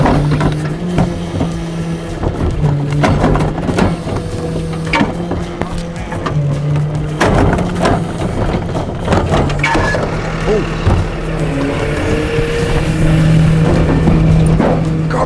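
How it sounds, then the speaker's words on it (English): A recycling garbage truck's compactor runs at high speed, a loud, steady mechanical drone with a low hum and repeated clanks and knocks over about fifteen seconds, with faint talk in the background. "this is the acceleration button, which speeds up the compactor"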